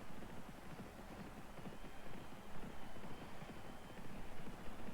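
Racehorses gallop in the horse racing video game Starters Orders 7, a continuous, muffled drumming of hooves that swells and pulses for five seconds under a broad noisy rumble, fairly quiet overall.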